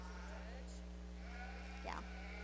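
At a county fair 4-H sheep show, a single lamb bleats briefly with a wavering cry, partly masked by a person talking and steady background hum in the show barn.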